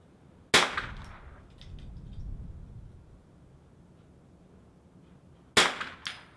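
Two sharp .22 rimfire rifle shots crack at an NRL22 match stage on an outdoor range, one near the start and another about five seconds later, each loud and close with a brief ringing tail over low background rumble.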